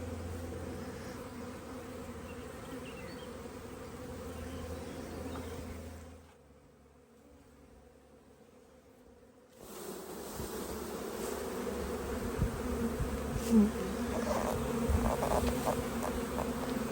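Honeybees buzz in a steady, dense drone around a hive in the open. The drone fades briefly in the middle, then returns louder and close, with a few sharper sounds of handling.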